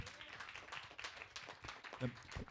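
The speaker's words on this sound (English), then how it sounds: "Can we give them a round of applause?" An audience applauds young poets and dancers at a youth and Father's Day celebration: dense, steady clapping that swells toward the end, with some voices mixed in.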